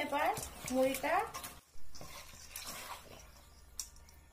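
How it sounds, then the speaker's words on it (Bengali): Puffed rice is hand-mixed with chili, onion, fried salt and mango pickle, giving close crisp rustling and crunching that fills the second half after someone speaks at the start. "মরিচ, পেঁয়াজ, লবণ ভাজা ও আমের আচার সবগুলো আমি এখন মাখিয়ে নিলাম।"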